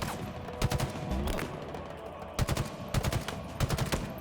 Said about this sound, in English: that's a big friggin' ship shooting at me